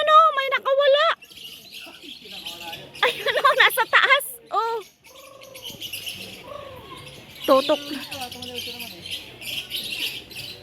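Birds at a mini zoo in Pugo, La Union, Philippines give loud, close chirps, whistles and squawks in irregular bursts, while people talk nearby between and over the calls.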